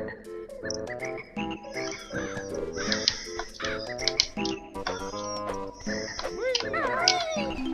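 Cartoon bird caws from the Banjo-Kazooie video game, several short squawky calls popping up over a busy, continuous game music score, with a voice talking throughout.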